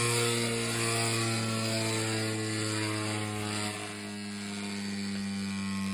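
A Beyblade X GolemRock 1-60UN top spins with a steady high-pitched whir, a faint scraping from its bit gears mixed into the even tone throughout.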